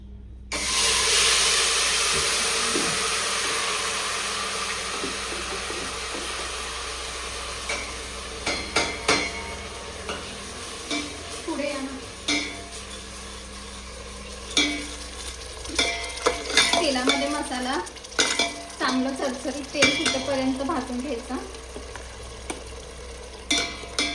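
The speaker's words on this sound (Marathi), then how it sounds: "भांड्यामध्ये तेल गरम करून घेतलंय मसाला टाकून तेलामध्ये चांगला मसाला भाजून घ्यायचा आहे" Masala roasting in hot oil in a pot for Kolhapuri tambda rassa, a red mutton curry: a steady close sizzle broken by repeated scraping and clanking stirring strokes, with no talk.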